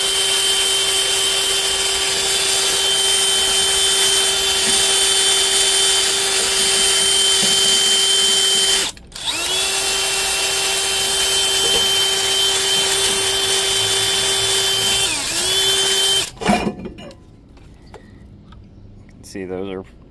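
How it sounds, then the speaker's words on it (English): A drill fitted with a wire wheel scrubs metal parts clean, a loud steady whine with a harsh brushing edge that cuts out briefly, then runs again before stopping, as the motor winds down with speech over it. "I'm going to use my drill with the wire wheel"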